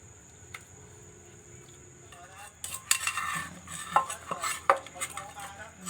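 Mackerel pounded with chili in a mortar, soft at first, then a series of irregular close thumps and clinks of the pestle growing louder in the second half, with no speech.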